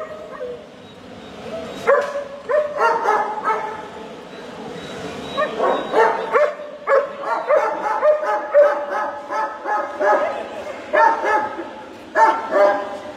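Dogs barking and yipping at a 2025 dog show in Sri Lanka, repeated sharp barks in irregular bursts, fairly close, with some whimpering between.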